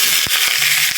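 Ground pork or beef hitting a hot pan with red onion already cooking for Filipino giniling, a broad steady sizzle filling the second with a few sharp pops and crackles.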